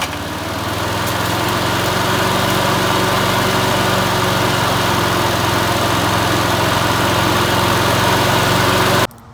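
SANLI Honda-style lawn mower engine running after a carburetor cleaning, a steady, loud, high-pitched buzz that holds even for about nine seconds before cutting off abruptly.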